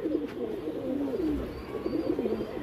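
Pigeons being shown for sale coo continuously in low, warbling phrases, close and fairly loud throughout, with no talking over them.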